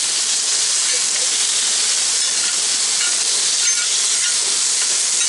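A steady, loud sizzle of smashed burger patties frying on a hot Blackstone griddle, a continuous bright hiss with no talking over it.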